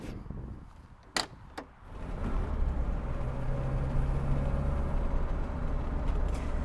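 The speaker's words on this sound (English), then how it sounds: "powering our Spider is the Giuseppe Busso designed 4-cylinder twin-cam engine that Alfa Romeo used for 40 years" A classic Alfa Romeo Duetto Spider with the Giuseppe Busso–designed four-cylinder twin-cam engine drives off after a couple of door-like clunks, then settles into a steady, close engine drone with road noise.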